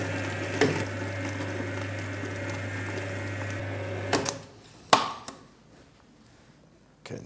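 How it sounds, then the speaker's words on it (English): Electric mixer beating cake batter in a home kitchen, a steady motor hum for about four seconds, then switching off with a few clunks and knocks of the bowl before near silence. "And mix it again until the batter runs smooth."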